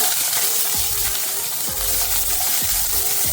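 Small onions sautéing with salt in groundnut oil in a kadai, a loud continuous sizzle with scraping stirs and clinks of a ladle against the pan at intervals.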